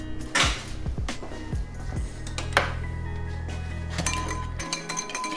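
A whisk clinks and rattles against a bowl and dishes in a kitchen, with sharp metallic and glassy taps and a low steady hum beneath.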